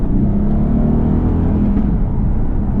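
A manual Aston Martin Vantage AMR 59 engine hums at a steady low idle from inside the cabin, a continuous even rumble with no revving or talk.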